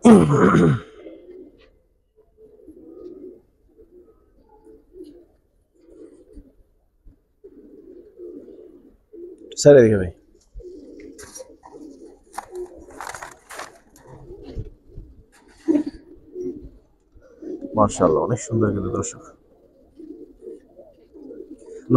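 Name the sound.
pigeons cooing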